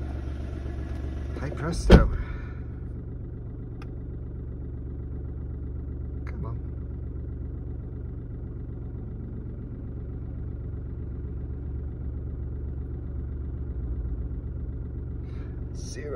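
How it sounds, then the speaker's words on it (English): A diesel car engine restarts and settles into a steady low idle, a brief sharp sound near the start, with the rumble continuing evenly throughout under a short spoken remark. "restart the engine, see if it restarts"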